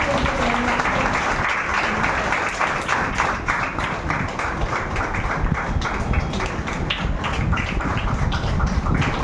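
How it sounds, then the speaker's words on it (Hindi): A church congregation applauds at a thanksgiving celebration for an extended church building, dense and steady clapping from many hands filling the room throughout, with voices mixed in. "सब तालियों के साथ"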